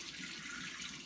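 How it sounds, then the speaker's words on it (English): Hot water running from a kitchen tap to wash a cast iron skillet, a soft steady hiss and splash, faint and continuous with no talk. "you just want the water on hot"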